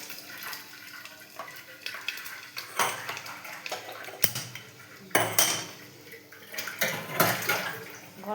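A pot of hot water being set on a stove, with metallic clinks and clattering of cookware and splashing water, close and uneven with several sharp knocks, no talking.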